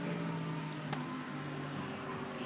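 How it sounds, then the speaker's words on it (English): Number 8 Kessel Racing Ferrari GT race car lapping Monza into the Parabolica, a steady droning engine tone heard at a distance beneath a continuous layer of circuit noise, with no sharp pass-by peak. "He's sharing that number 8 Kessel Racing Ferrari, working his way past the Santalok Audi, just there down into the Parabolica."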